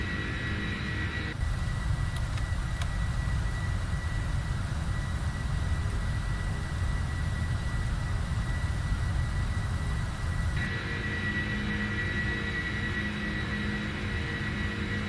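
A simulated PMDG 747-400F cargo jet climbing out after takeoff in a flight simulator, a steady broad jet-engine roar with a low rumble that holds throughout, no talk.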